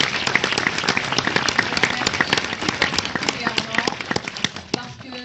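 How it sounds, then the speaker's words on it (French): Audience at a charity evening in a town hall clapping, sharp individual hand claps in a lively irregular burst, with voices talking over it. "je voudrais vraiment que vous applaudissiez très fort Stéphane Pichon"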